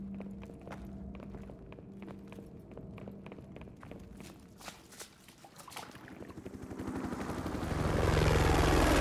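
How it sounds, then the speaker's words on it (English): Helicopter in Call of Duty 4: Modern Warfare, a steady rotor and engine drone that swells louder toward the end, mixed with footsteps and gunfire-like clicks in the game. "Doesn't that chopper end up shooting at us?"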